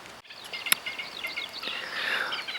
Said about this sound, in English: you can hear all the noises, all the bird noises